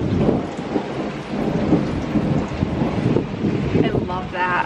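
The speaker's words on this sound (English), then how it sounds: "I just had to show you the thunder" A summer thunderstorm over a house: loud rolling thunder and heavy rain drumming on the building, with gusty wind buffeting the microphone throughout and a brief voice near the end.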